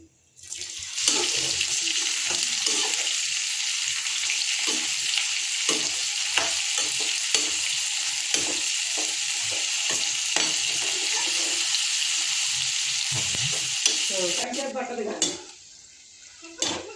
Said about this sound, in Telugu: ఇప్పుడు కాకరకాయ ముక్కలను అయితే వేసుకుంటున్నాను నూనె అయితే కాగిందండి